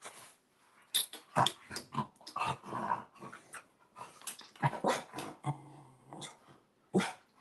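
A dog growls and whimpers in uneven bursts, close by, with short panting-like breaths between the louder outbursts.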